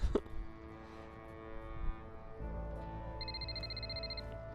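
A phone ringing in the video game Dreamfall Chapters, heard as a short repeating electronic ring pattern that starts partway through over a steady background of game music and ambience.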